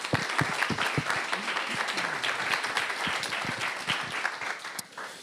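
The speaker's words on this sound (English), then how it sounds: "please make a small round of applause for Afri." An audience at a web3 privacy talk in a hackerspace applauds a speaker, a sustained round of clapping with distinct close claps over a crowd wash, tapering off near the end.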